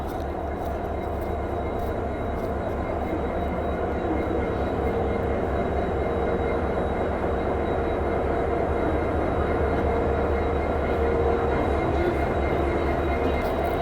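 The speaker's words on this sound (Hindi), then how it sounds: "अब एक पहले एक डीजल लोकोमोटिव दिखाता हूँ स्पेशल" A train led by a WDP 4D diesel locomotive passing, a steady, loud rumble of engine and rolling wheels that holds evenly throughout.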